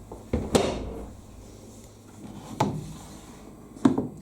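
The swivel detergent drawer of an Indesit IWME146 integrated washing machine being worked, three separate muffled clunks of plastic knocking and sliding, close by in a quiet room.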